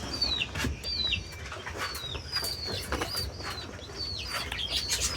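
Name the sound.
Baghdadi pigeons cooing and flapping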